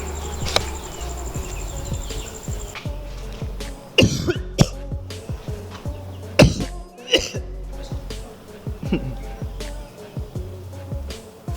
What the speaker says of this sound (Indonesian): di belakang sini gua beberapa kali batuk-batuk biasa itu